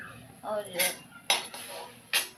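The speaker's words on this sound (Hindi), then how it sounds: "थोड़ा सा हल्दी थोड़ा सा नमक मैंने ऐड किया है और इसको मैंने मिक्स कर दे रही हूँ" Fish being mixed with salt and turmeric in a metal dish, giving a few short clinks and scrapes of utensil against the dish, fairly close, with quiet pauses between.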